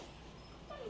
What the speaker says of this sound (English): This dog will not let me finish.